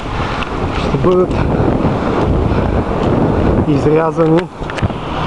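Loud, constant wind buffets the microphone outdoors in a river gorge, rumbling throughout while someone speaks briefly underneath.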